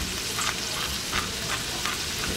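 Jalapeño sauce is stirred in a hot pan, giving a steady bubbling sizzle with soft recurring scrapes of the spoon, and no voice.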